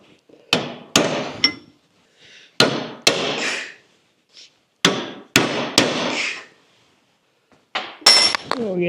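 Hammer blows driving a chisel to cut a slot in a leaf spring bushing on a Scout 800 during restoration; sharp metallic strikes come close and loud, in pairs and short bursts with brief pauses between.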